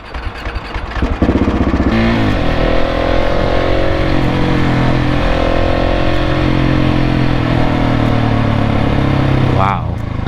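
A warm Husqvarna 701 Supermoto single-cylinder engine fires up and runs loud and close, a steady thrumming idle with slight revving that holds for about ten seconds while a voice talks over it.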